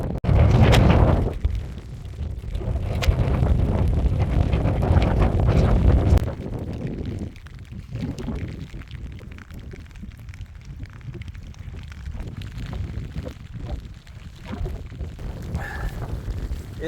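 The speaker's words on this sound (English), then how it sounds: "It's raining, it's misty, it's windy, and it's freezing cold." Wind and rain on the Appalachian Trail in the White Mountains on a cold, misty afternoon: heavy gusts buffet the microphone in a loud, continuous rumble, easing slightly after the first few seconds but never letting up.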